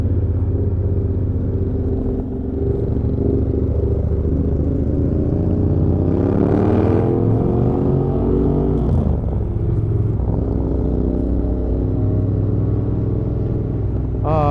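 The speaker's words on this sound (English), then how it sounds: "that exhaust, straight pipes." A Triumph Thruxton RS 1200 motorcycle with straight-pipe exhaust rumbles loud and close during a group cafe racer cruise in Sydney, its deep steady drone swelling as the throttle opens and dropping back between shifts.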